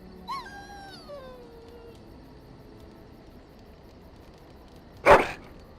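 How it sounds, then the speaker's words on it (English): A single short dog bark or yelp with a falling, whining tail in Dragon Age Origins, followed by quiet and then one loud, sharp burst near the end. "Your dog is filthy."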